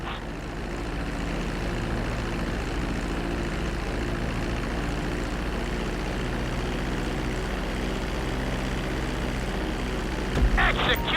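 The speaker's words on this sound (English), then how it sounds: "Start reducing the plane's altitude gradually so you're just above the runway as you approach." Airplane engine on landing approach in Grand Theft Auto V, a steady, loud propeller drone with constant low tonal hum holding throughout, ending in a brief rumbling thump near the close.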